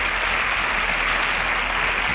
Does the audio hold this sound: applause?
yes